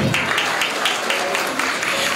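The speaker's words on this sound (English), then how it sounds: "Please clap for the parents." An audience at a school annual cultural event claps for the parents, a steady patter of many hands sustained throughout at moderate volume, with no speech over it.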